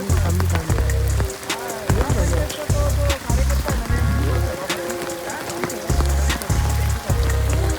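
Heavy rain falls hard during a flood in Kurund, a dense patter with repeated low thudding bursts nearby.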